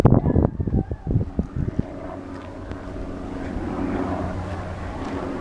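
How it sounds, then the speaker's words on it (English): After some brief knocking and rustling, a distant rotor drone of firefighting helicopters rumbles steadily overhead, faint and continuous, heard from a fire road. "We still hear helicopters."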